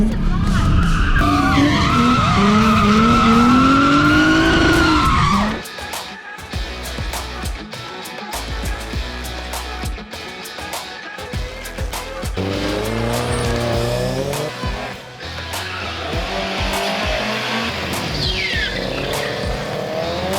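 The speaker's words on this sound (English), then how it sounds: "And Abdul, you were actually driving your car amazingly today." A race car skids with a loud, sustained tire squeal for several seconds, then drives on with rough, varying engine noise and further squeals, close and dominant throughout.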